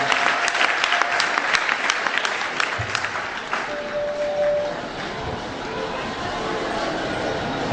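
A church congregation at a 25th anniversary worship service breaks into loud applause, dense clapping that peaks early then gradually thins and fades, with voices murmuring underneath.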